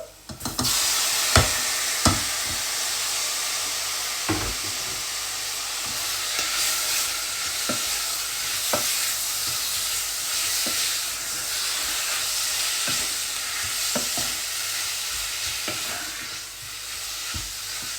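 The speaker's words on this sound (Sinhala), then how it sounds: "දැන් අපි මස් ටික දාලා හොඳට කලවම් කරගමු." Chicken wings are stirred into spices frying in a pan, a continuous sizzle broken by sharp scrapes and knocks of the spoon at irregular intervals, close and fairly loud.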